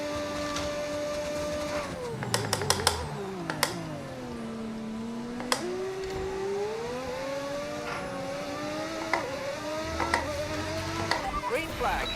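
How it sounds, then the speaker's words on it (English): Race car engine sound from a free engine mod in a racing sim game: a steady, buzzing engine note that swoops up and down in pitch as the car revs, shifts and slows, with occasional sharp clicks over it. "I got the car sound from overtake.gg. It's a free engine mod download."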